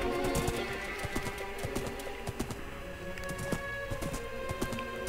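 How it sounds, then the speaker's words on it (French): Hooves of a horse in Minecraft beat in a rapid, steady clip-clop rhythm throughout, loud and close, with layered game ambience beneath. "Allez, avance, cheval!"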